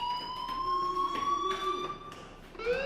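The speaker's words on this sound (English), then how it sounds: "Hey, do you hear that fire alarm? That means you should be outside." School fire alarm in the video game Life is Strange, ringing as a steady high electronic tone that sweeps slightly, continuous and clear throughout with no talking.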